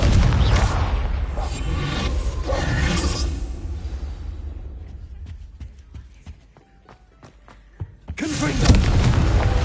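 Confringo fire spell blasts in Hogwarts Legacy: a loud, roaring burst that fades into scattered sharp crackles and pops, then a second heavy blast erupts near the end.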